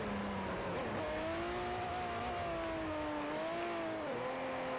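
A pre-1975 race car in Forza Motorsport 4 drones steadily, its engine pitch rising and dipping through corners while a thin tire squeal and skid run underneath, loud and close throughout.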